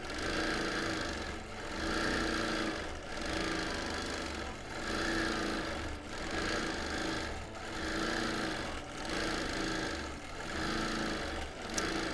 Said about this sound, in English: I'm stitching on my Bernina Q24.